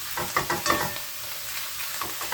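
Mushrooms sizzle and fry as they cook down in a pan, a steady close crackle with soft stirring scrapes and no talking.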